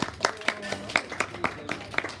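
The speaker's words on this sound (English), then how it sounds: "round of applause for myself" Sparse clapping during an anatomy lecture on the renal corpuscle: a few distinct, evenly spaced claps, close and moderately loud, over a quiet background.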